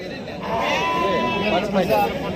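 Sheep bleat loudly and repeatedly at a busy goat and sheep market in Sangola, the drawn-out wavering cries rising over background chatter and people talking nearby.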